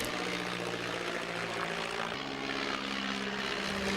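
An Aer Lingus DH-84 Dragon propeller biplane flies past at an airshow, its loud, rough engine and propeller drone filling the air steadily with a slight shift in pitch as it passes.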